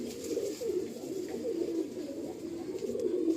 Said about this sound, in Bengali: বাহ সুন্দর পায়রা।